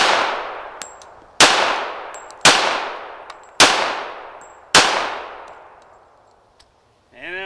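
Five sharp gunshots from a Colt Combat Unit pistol, fired at an outdoor target at a steady pace, each one loud and close with a long ringing decay, followed by faint steel-target clangs.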